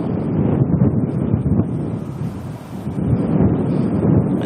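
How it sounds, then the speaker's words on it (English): Strong wind buffets the microphone at an Auckland plane spotting spot near the airport, a loud, continuous low roar with gusts swelling and easing throughout, no voices. "As you can no doubt hear, it is pretty windy here today."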